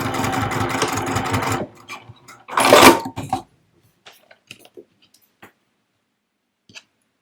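A sewing machine stitches close to a finished fabric edge and backstitches to reinforce it for a roll-up organizer: a steady mechanical whir, then a short second burst, followed by quiet scattered clicks.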